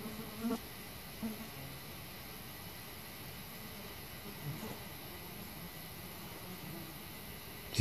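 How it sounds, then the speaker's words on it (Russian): Flies buzz faintly and steadily over a wide summer meadow full of fireweed, with a few soft louder swells in an otherwise quiet outdoor setting and no talking. "только мухи жужжат"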